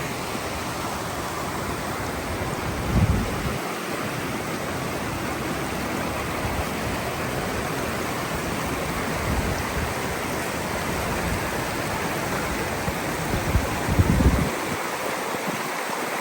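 Cold stream water flowing steadily at a gold-panning spot in Utah, a continuous broadband rush with a few faint low bumps nearby.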